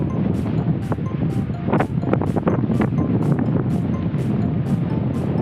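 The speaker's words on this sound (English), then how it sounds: "we're in an insane windstorm right now" Powerful gusts of a windstorm in Montana, just past Bozeman, roar and batter the microphone, a loud, rumbling, continuous rush with no talking.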